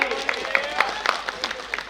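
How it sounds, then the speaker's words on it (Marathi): Spectators at a Yallama Kesari 2023 wrestling bout clap for wrestler Sangram Kakade, with rhythmic, evenly spaced claps over a crowd murmur and a voice. "संग्रामसाठी जोरदार टाळ्या करा सर्वांनी"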